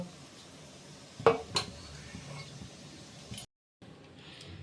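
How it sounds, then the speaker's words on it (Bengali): A metal tiffin box of steamed prawns is opened, with two sharp metallic clanks of the lid close by followed by a quieter clink amid light kitchen handling. "এই দেখুন বন্ধুরা টিফিন কোটাটা আমি খুলে ফেলেছি"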